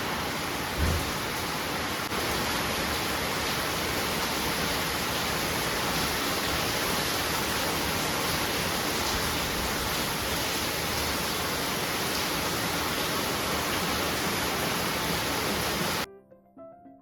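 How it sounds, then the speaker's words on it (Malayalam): Heavy rain pours steadily outside a home kitchen, a dense unbroken roar of falling water that holds at the same level for about sixteen seconds, then cuts off abruptly. "ഭയങ്കര മഴയാ"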